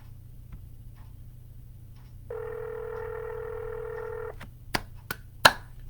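Telephone dialing out on a cold call for real estate listings: a steady dial tone holds for about two seconds, then several sharp separate beeps as keys are pressed, close and clear over a low background hum.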